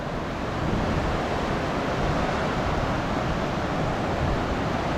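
Water flowing steadily at the confluence of the Balganga and Dharmaganga rivers, a continuous broadband rush close by with wind mixed in, no voices.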